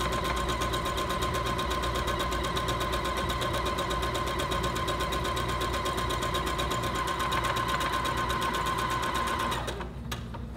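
A Singer Featherweight C240 sewing machine stitches a buttonhole in one steady, loud, rapid mechanical whirr with fine rhythmic needle chatter, running alone until it stops by itself near the end.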